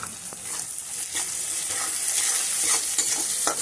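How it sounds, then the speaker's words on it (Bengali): Onions with green chilli and ginger sizzle in hot oil while a spoon stirs them, steady frying hiss with scattered scraping strokes, close and alone. "পেঁয়াজটাকে আমি ভালো করে নেড়ে চেড়ে মিশিয়ে নেব"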